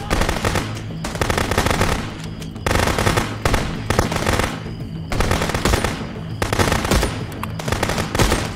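Rapid automatic gunfire from the video game Contraband Police rattles on almost without pause, loud and dense, with short breaks between bursts.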